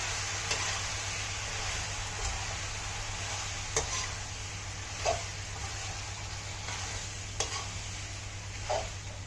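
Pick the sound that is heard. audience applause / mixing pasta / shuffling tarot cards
mixing pasta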